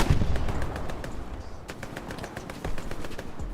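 Rapid bursts of machine-gun fire from the video game Hell Let Loose on the Omaha Beach map, a dense crackle of shots with distant battlefield rumble and no talk.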